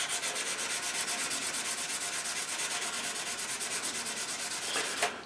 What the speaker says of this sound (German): Das Ganze schleife ich jetzt aber schon nass.